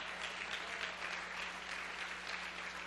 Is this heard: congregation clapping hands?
yes